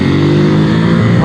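Engine of a 2021 Ducati SuperSport 950 S motorcycle, a loud, close, steady throbbing drone held briefly without talk.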